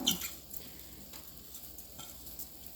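Basmati rice goes into a hot pan with garlic and olive oil, giving a brief louder sizzle at first, then soft, quiet frying and occasional stirring scrapes.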